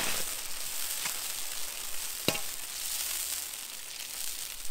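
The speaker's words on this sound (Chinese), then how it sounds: "锅里来点油，油温七成热，下入小龙虾。" Crayfish sizzle and crackle in hot oil in a wok, a steady broadband frying hiss with a sharp pop partway through, close and alone with no talk.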